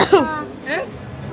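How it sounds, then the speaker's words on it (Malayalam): Two short coughs, close and fairly loud, spaced about half a second apart. "എത്ര ഇത് ചുമക്കുന്നത്"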